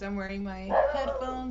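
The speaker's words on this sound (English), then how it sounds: "that's my dog" A dog gives a short bark or yelp close by, overlapping someone talking.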